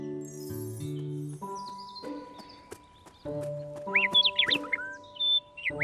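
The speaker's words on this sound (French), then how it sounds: "Un oiseau chante gaiement dans un arbre." A cartoon bird sings in a tree in an animated children's series, a quick burst of bright chirps following a gentle melodic music cue.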